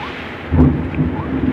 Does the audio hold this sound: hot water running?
no